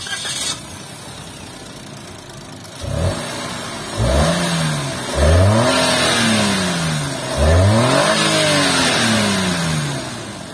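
A Suzuki Wagon R Smile with a 660cc naturally aspirated mild hybrid engine starts up close by, then revs several times in rising and falling surges before settling to an idle.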